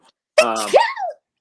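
A single close, loud sneeze bursts out during a relaxed conversation about wrestling, lasting under a second and then trailing off into a breathy tail.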